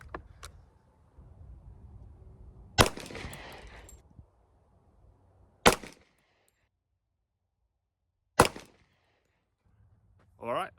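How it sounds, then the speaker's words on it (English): Three sharp, loud gunshots from an EAA Witness .45 ACP pistol loaded with 230 grain rounds, spaced a few seconds apart, each with a short ringing tail, fired over a quiet outdoor background with faint rumble between shots. "We're going to do a 3-shot group with these 230 grains first, and hopefully our sight adjustment's right."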